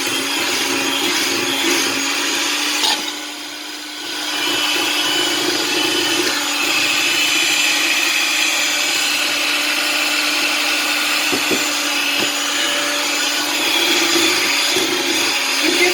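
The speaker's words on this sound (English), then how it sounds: "Okay, so we're going to keep mixing this." An electric mixer whirs loud and steady through cinnamon bread batter as eggs are worked in, its motor briefly dipping in pitch as the beaters shift, then running on without voices.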